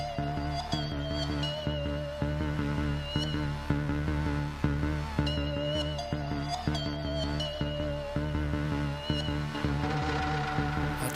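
A vibrating synth theme for the Back of Bourke television title sequence, taken from an old VHS tape: steady pulsing electronic tones with layered harmonics and a repeating rhythmic pattern, loud and continuous throughout.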